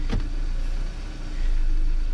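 A Hyundai Sonata rolls after being manually shifted into gear, its engine a steady low hum with a brief mechanical clunk near the start and a slight swell in the engine note toward the end, close and without speech.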